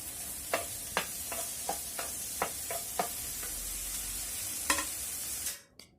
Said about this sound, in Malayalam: ചെറുതായി അരിഞ്ഞു വെച്ചിരിക്കുന്ന വെണ്ടയ്ക്ക നമുക്കിതിലേക്ക് ചേർക്കാം. എന്നിട്ട് നന്നായിട്ടൊന്ന് മിക്സ് ചെയ്യുക എല്ലാം കൂടി.